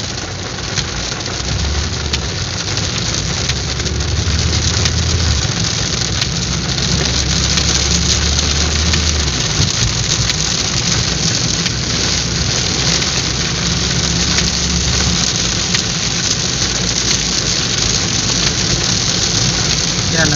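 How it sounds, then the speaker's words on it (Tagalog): Heavy rain pours steadily in a dense, loud hiss on a road trip from Albay to Camarines Sur, with a vehicle engine rumbling low underneath. "Lakas ng ulan."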